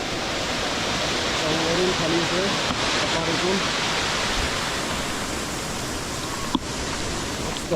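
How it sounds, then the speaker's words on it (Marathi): A constant broadband rush of flowing water from a small waterfall in rainy Konkan, persists throughout, with a brief word spoken partway. "पाण्याचा आवाज इथून सुद्धा एक छोटासा धबधबा आहे खाली"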